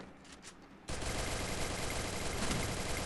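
Sustained video-game gunfire in Free Fire bursts in loudly after a brief quieter lead-in, a dense, continuous rattle of automatic shots filling the rest of the clip with no talking.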